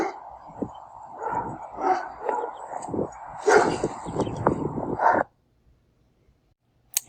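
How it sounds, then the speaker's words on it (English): A dog barks and yips repeatedly at close to middle distance, in short bursts over about five seconds, recorded outdoors at a pollinator garden before quiet falls. "Excuse the dog barking"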